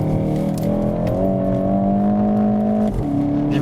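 A car engine accelerating on the move, a loud, close drone whose pitch climbs steadily, drops briefly as if shifting gear, then rises again.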